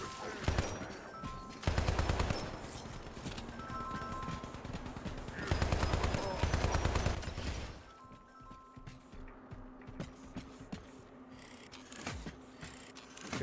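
Automated turrets in a sci-fi survival video game fire rapid bursts of gunfire, loud and dense for stretches before easing into quieter background action.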